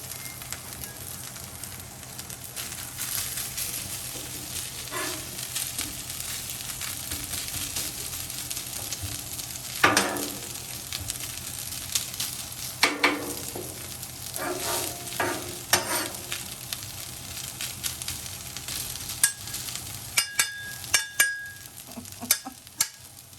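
Fried rice sizzles and fries in a pan with a steady, soft hiss, broken by occasional clinks and scrapes of stirring and a few louder clatters near the end.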